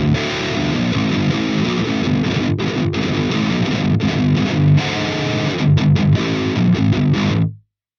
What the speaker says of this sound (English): And we still have the distortion that we had before because I didn't touch anything.